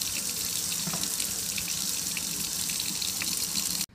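Figs are rinsed under a running kitchen tap, a steady close splashing stream of water into the sink that cuts off abruptly at the end, with no talking.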